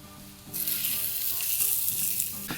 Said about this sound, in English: So I'm just gonna cut maybe about 2/3 of this off and get that onto the grill